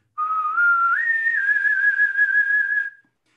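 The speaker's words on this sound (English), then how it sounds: "It's a tongue vibrato used from your whistling position." Harmonica note played with tongue vibrato from the whistling position, a single sustained pure tone that steps up in pitch then wavers gently, clear and close, ending abruptly in silence.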